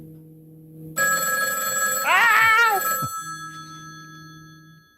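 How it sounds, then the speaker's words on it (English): A phone rings after being called from another phone over Bluetooth: a loud, close electronic ringtone with a warbling melodic burst, starting abruptly and then cutting off, with a hum underneath. "call my phone and see this one ring"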